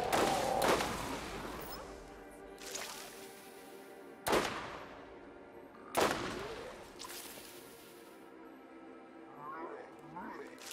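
Gunshots and explosions in the video game Borderlands: three sharp, loud blasts with ringing, decaying tails, spaced a couple of seconds apart, with lighter game sounds between them.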